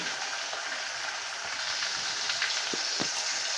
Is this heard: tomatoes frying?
yes